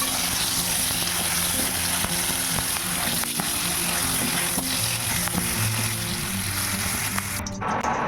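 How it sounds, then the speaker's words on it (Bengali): Potatoes fry in hot oil in a wok, giving a loud, steady sizzle that crackles continuously and shifts slightly just before the end. "আলুটাকেও লাল লাল করে ভেজে তুলে রাখলাম"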